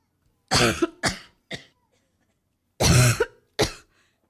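A woman coughs in short sharp bursts, three quick coughs, a pause, then two more, close and loud in a quiet room.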